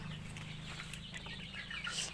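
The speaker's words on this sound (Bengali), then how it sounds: "আজকে আমি আপনাদের দেখাবো দেশি মুরগির 2 মাসের বাচ্চা।" Two-month-old native chickens on a farm cluck and chirp in a steady, soft flock chorus, several birds calling at once at a moderate distance, with no talk.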